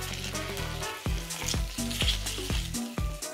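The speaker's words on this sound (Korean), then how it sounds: "팬에 기름 두르고 고기를 볶다가 물기가 나면 자른 야채를 넣고 야채의 숨이 죽을 때까지 볶아줘." Pork and chopped vegetables stir-fry in an oiled pan, giving a close, steady sizzle broken by regular scraping and clacking strokes as the food is tossed and stirred.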